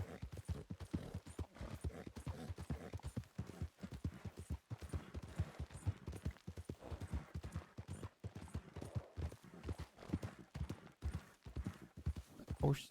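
Horse hooves clip-clopping at a steady trotting rhythm in a Red Dead–style western roleplay game, close and continuous throughout, with a voice speaking over the hoofbeats.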